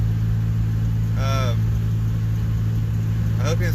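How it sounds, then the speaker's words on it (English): A rebuilt 1991 Geo Metro engine idles steadily with a constant low hum, close and even throughout, with brief faint squeaky tones over the running engine. "So the car's running good."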